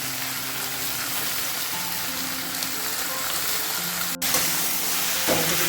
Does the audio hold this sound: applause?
no